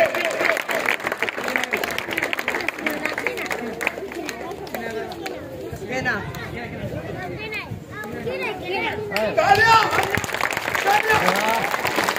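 Applause from a school audience at a parents day event fills the space, with dense clapping and crowd chatter mixed throughout, swelling again toward the end.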